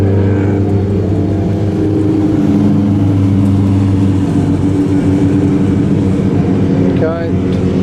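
Race car engines drone loudly and continuously at a speedway at night, a steady low roar with shifting pitch, and a voice is heard briefly near the end.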